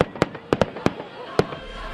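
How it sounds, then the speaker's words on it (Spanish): Fireworks bursting over Punta Arenas on a winter night, a series of sharp booming explosions at irregular intervals, fairly close and loud, with faint rumble between blasts. "¡Viva el invierno!, parecieran pregonar los fuegos artificiales que iluminan el firmamento."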